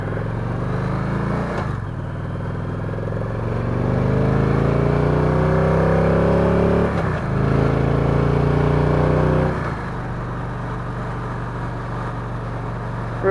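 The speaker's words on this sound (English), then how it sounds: "Revs up nicely." A 2016 Victory Cross Country touring motorcycle's engine revs up and falls back, its pitch climbing in rising sweeps between brief gear-change dips, loud and close over a steady low drone.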